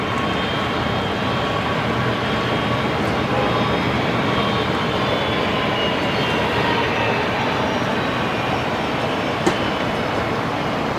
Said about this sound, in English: the Fokker now beginning its taxi down there.